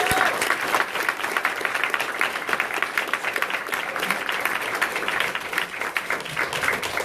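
A lecture audience applauds in a dense, steady wash of clapping that runs at full strength for the whole stretch, with a few voices mixed into the crowd noise.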